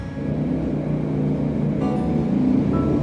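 A motor vehicle passes on a busy street where motor tricycles often go by, giving a steady low engine rumble that builds slightly, fairly close and alone.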